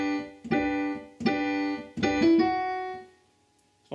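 Piano playing one measure of a song: three struck chords, each held and ringing, the last one sustained and decaying into quiet, soft and alone.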